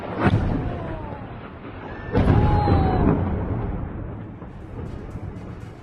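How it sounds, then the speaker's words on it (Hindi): Bomb blast bringing down a building in Beirut: a deep rumbling explosion opens, then a second heavy boom follows with roaring debris and collapse rumble that slowly fades, heard from a distance. "आईडीएफ ने बिल्डिंग को बम से गिरा दिया। इमारत खाली कराने के बाद धमाका किया गया।"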